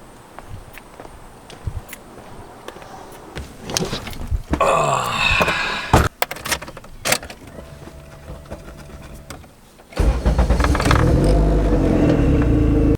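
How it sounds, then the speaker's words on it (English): Turbocharged Honda Civic with a cheap swapped engine, heat soaked after sitting, cranking and firing up; rustling and a few knocks come first, then a brief burst, and the engine settles into a loud, steady idle near the end. "starting the car after it's been heat soaked and sitting for a while went absolutely flawlessly. Car fired right up"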